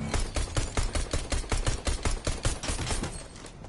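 Rapid pistol gunfire from a common pistol in Fortnite Chapter 2, a quick run of about twenty sharp, evenly spaced shots fired without pause, moderately loud with no talking.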